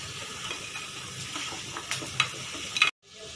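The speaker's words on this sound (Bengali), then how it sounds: "মাছের ডিমের কোপ্তাগুলো আমার ভাজা হয়ে গেছে" Fish egg koftas fry in hot oil, a close crackling sizzle with spitting pops and light stirring scrapes, ending abruptly after about three seconds.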